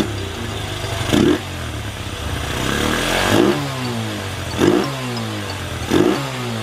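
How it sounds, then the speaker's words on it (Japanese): A Honda XR100 motard's small single-cylinder engine idles steadily and close by, a continuous putter that swells briefly in four short revs spaced a couple of seconds apart, with no talking over it. "こんな感じ元気にアイドリングしてくれております。"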